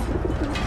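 A pigeon coos in the video game Battlefield 1, a short, low, throaty call that is close and fairly loud over a dense background of battle ambience.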